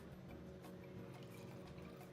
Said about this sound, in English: And we're also going to add the same amount of water.